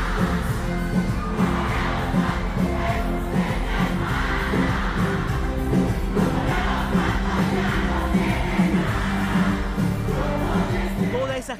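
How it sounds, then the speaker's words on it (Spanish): A concert crowd in Spain applauds and sings along with the singer, a massed chorus of voices with cheering that keeps up an even, loud roar for the whole stretch. "Esa gente que lo aplaude y corea sus canciones es en un concierto en España."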